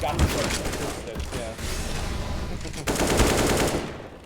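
Rapid automatic gunfire fills a tactical shooter video game during a map playtest, with dense, continuous bursts that drop out briefly and then return louder.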